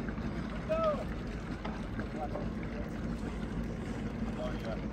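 A houseboat under way on open water, giving a steady low wash of water and wind rumble with faint voices and a few thin whistling tones over the top.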